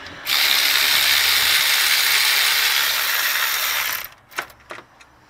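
A hand ratchet works an alternator bolt loose on a 2002 Toyota 4Runner with the 3.4 liter V6, giving a loud, steady run of rapid clicking for about four seconds, then a few separate clicks and knocks.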